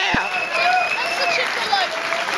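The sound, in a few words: audience applause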